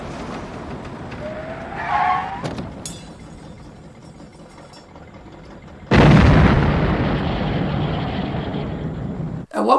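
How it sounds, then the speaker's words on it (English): A truck in the action film Maximum Overdrive hops into a field and explodes: a rising tire skid and a sharp crash, a lull of low rumble, then a loud, sudden explosion that roars on and slowly fades. "There's a truck that takes a tiny little jump into a field and then explodes for no reason"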